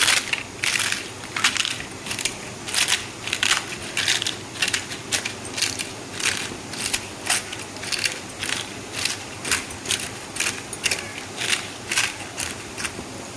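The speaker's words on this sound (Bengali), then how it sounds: "পাঁপড়গুলো আমি একটু হাত দিয়ে ভেঙে দেব" Fried papad broken up by hand over a pan, a long run of sharp, brittle crunches and cracks coming in quick irregular bursts, close and crisp with no voices.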